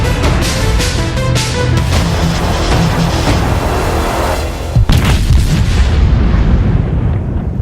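The 16-inch naval guns of the battleship USS New Jersey fire in World of Warships. Repeated heavy booms and blasts follow in quick succession, loud and close, with one especially sharp report near the end.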